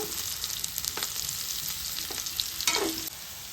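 Bitter gourd pieces sizzle and crackle steadily in an oil pan, with occasional clinks and scrapes of stirring, close and loud with no talk.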